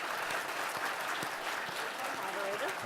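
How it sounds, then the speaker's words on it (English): Steady audience applause for a marketing panel at the NECTA 2017 event, many hands clapping in a dense, even wash throughout with a faint voice murmuring underneath near the end. "if we could give them a round of applause"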